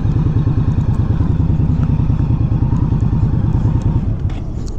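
An Indian Scout Rogue motorcycle idling and being maneuvered into a parking space, giving a loud, close, lumpy V-twin chug with a steady pulsing rhythm throughout.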